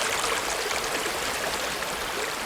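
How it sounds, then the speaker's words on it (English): A river's steady flow rushes and trickles continuously, close and fairly loud, with no voices over the broad wash of water. "ending up with this steady flow of this river"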